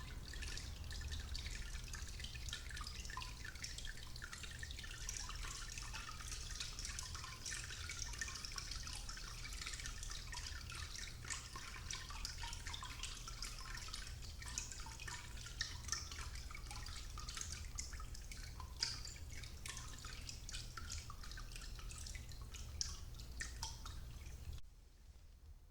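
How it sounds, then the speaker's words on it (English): Water drains from a papermaking mold in a steady trickle with many fast drips, close and fairly quiet. It runs without a break for about twenty-five seconds and then suddenly stops. "Then let the water drain out."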